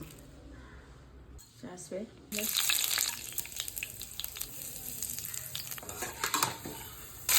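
Mustard seeds crackle and sizzle in hot oil in a home kitchen, a dense, continuous frying hiss with scattered pops, starting after a short lull and staying loud throughout while a voice speaks briefly at the start.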